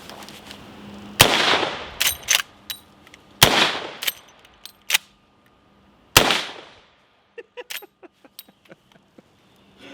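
Three booming shots from a suppressed 45-70 rifle with a muzzle brake, each a sharp crack with a decaying tail, spaced a couple of seconds apart, followed by metallic clinks and rattling of the action and casings.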